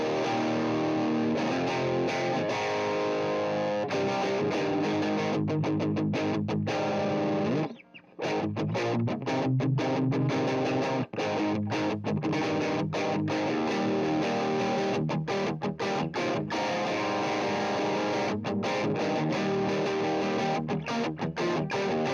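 Electric guitar through a distortion pedal plays continuously, thick and buzzing, with a brief drop-out early on before the sustained, gritty tone carries on.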